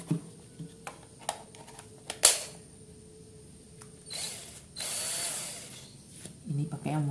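An inexpensive cordless drill driving screws on its normal mode, giving a short high whirring burst after several light clicks and taps, close and moderately loud, followed by more handling noise.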